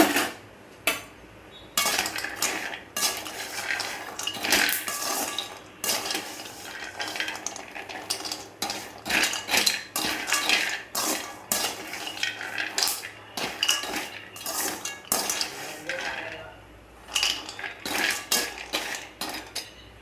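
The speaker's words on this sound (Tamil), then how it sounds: "வறுபடட்டும், கொஞ்ச நேரம் வெயிட் பண்ணுவோம்." Almonds and pistachios roasting dry in a pan at home, giving repeated scraping and clattering of a metal spoon stirring against the pan, irregular and close, with no talking.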